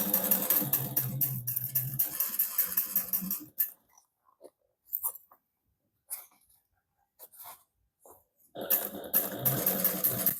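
A home sewing machine sews a holiday stocking seam in two bursts of close needle chatter, one at the start and one at the end, separated by quiet handling sounds.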